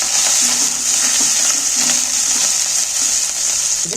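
Ginger paste sizzles in hot oil while a rice and pointed gourd dish is cooked, giving a steady, close, hissing fry that holds without pause.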